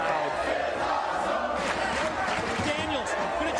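A packed wrestling arena crowd at a TNA X-Division title triple threat match cheers and shouts continuously, with a commentator talking through the steady roar and a few impacts from the ring.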